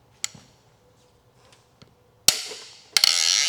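After faint clicks and ticks, a breaker bar cracks a head bolt loose on a blown Subaru EJ engine with a sharp loud metallic crack, followed by a second crack and grinding mechanical noise.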